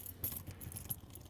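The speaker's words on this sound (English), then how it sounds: "grab your keys" A bunch of Subaru Forester car keys jangles close by, quiet metallic clinks and rattles in a short burst.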